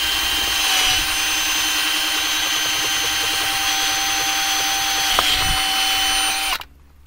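A power drill boring a half-inch hole in a Land Rover LR4 whines steadily at high speed for several seconds, close and loud, then cuts off abruptly near the end.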